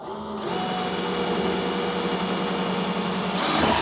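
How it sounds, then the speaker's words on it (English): A power drill with a 1/8 inch bit runs steadily into a pontoon deck, a continuous close whine that holds for about three seconds and rises slightly in pitch near the end, with no talking. "all you need on these is a 1/8 inch drill bit"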